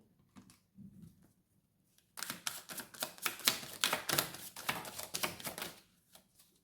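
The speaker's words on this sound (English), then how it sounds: "I just had a splatter of cards." Tarot cards are shuffled and spill, giving a rapid flurry of crisp close flicks and slaps after a quiet stretch, dense and fairly loud for a few seconds before trailing off.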